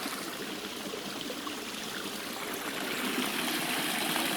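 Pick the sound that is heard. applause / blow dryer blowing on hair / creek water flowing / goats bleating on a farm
creek water flowing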